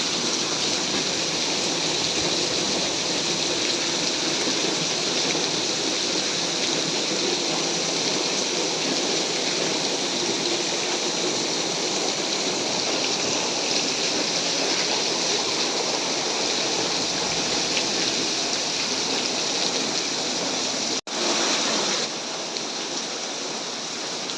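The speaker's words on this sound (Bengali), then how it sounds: "বছরের প্রথম বৃষ্টি একদম ঝুম নামছে" Heavy first rain of the year pours down steadily in a dense, unbroken roar that stays loud and close throughout, with water already pooling, and a brief drop near the end.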